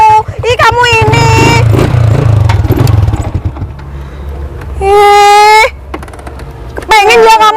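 A Ninja motorcycle engine revs loudly with a rising, wailing tone, alternating with stretches of loud idle rumble, while people talk over it.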